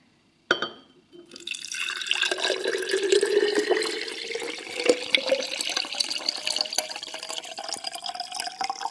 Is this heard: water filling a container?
yes